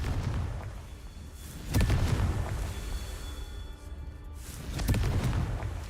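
Confringo fire spell exploding in the game Hogwarts Legacy, two deep booming blasts a few seconds apart over a steady low game rumble.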